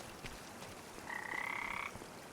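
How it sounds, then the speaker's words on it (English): In Farming Simulator 25, a frog gives one sustained, buzzing croak near a stream, lasting under a second over a steady outdoor ambient hiss. "Oh, frogs."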